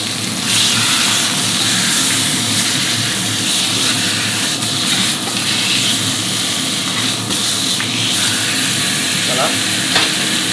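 A hare fillet sears and is turned in a hot pan in a Michelin-starred restaurant kitchen, giving a loud, dense, continuous sizzle with small crackles and no talking.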